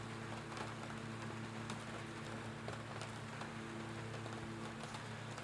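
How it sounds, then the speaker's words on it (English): Steady patter of rain on an aircraft in the X-Plane flight simulator, a FlyAGI effect, hissing evenly over a low cockpit hum throughout with faint scattered drop ticks. "Fly AGI tweak actually creates that rain sound, which sounds quite realistic"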